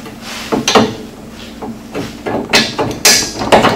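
Bolts are slid into the rigid arms of a RacerTech bumper on a 2015 Triumph 900S motorcycle, giving a few close, sharp metallic clicks and knocks at irregular intervals with handling noise between.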